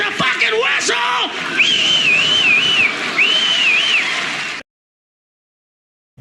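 A man whistles through his cupped hand on stage, producing warbling, wavering tones that rise and fall. A short yell comes first, and the sound stops abruptly.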